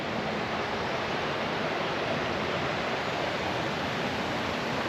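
Waterfall at Pont Melinfach in Welsh waterfall country, a steady broadband roar of falling water close by, constant and loud with no pauses and no voices.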